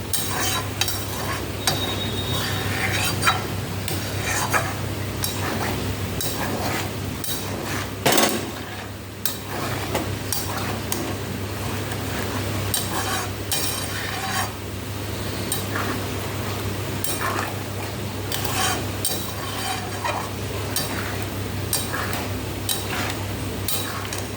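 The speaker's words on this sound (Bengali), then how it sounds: "জল দিয়ে দিয়েছি, এবার ভালো করে নেড়ে নিই।" Mutton keema and chana curry being stirred in a pot after water is added, with steady scraping and clinking of a spoon against the metal over a constant low hiss of simmering, close and continuous with no talk.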